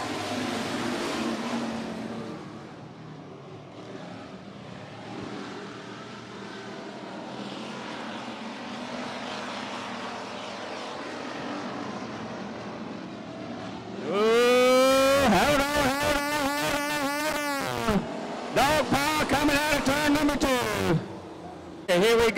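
Factory stock race cars roar past at 105 Speedway after a stretch of distant crowd and track ambience, with loud engines swelling and falling in pitch as several cars sweep by in close succession.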